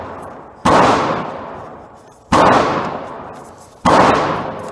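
Three suppressed gunshots at an outdoor shooting range, each a sharp loud broadband crack followed by a long decaying tail, spaced about one and a half seconds apart with no talking.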